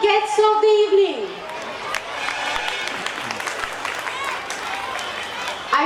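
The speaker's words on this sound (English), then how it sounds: "A huge round of applause for our honorable guests of the evening" An audience at a school annual day event applauds the honorable guests, clapping and crowd murmur spreading through the hall after a brief musical tone fades, busy and moderately loud.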